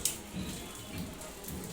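Rain falling outdoors in Ghatkopar, a steady, faint hiss of drops heard from indoors, soft and continuous with no voices.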